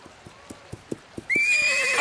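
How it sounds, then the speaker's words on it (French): A cartoon horse, a wild horse, clip-clops with steady rhythmic hoofbeats, then lets out a loud, shrill whinny that rings to the end. "un cheval sauvage!"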